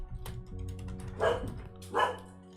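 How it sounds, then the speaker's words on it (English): A dog gives two short, fairly faint barks about a second apart, heard against a low background hum and a few light clicks. "I heard your dog."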